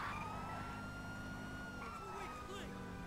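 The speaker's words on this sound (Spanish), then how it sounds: "Uy, que desconecto la sirena." Police car siren in the video game GTA V with the LSPDFR mod, a steady wailing tone with continuous road and engine noise underneath, fairly faint in the mix.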